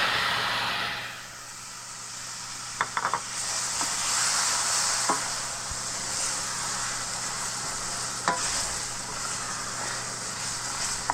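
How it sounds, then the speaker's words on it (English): Diced apples hit a hot, dark peanut-butter-colored roux and set off a steady close sizzle and hiss with faint stirring scrapes, continuous for several seconds, without talk. "at this point we're going to add our diced apples"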